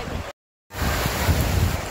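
Sea waves wash onto a beach in Spain between rocky headlands, a steady loud surf roar with wind buffeting the microphone, broken by a brief silent gap near the start.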